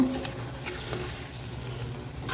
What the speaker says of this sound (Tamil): அடுத்து இந்த ப்ரொக்கோலியை போட்டுடலாம். அப்படியே வதக்கி விடுங்க.